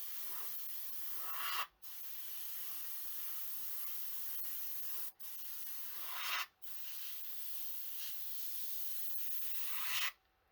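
Spray paint misted in short hissing bursts over a 1/3200 scale AMT Romulan Warbird model kit, four close bursts of two to three seconds each separated by brief pauses, with no talk.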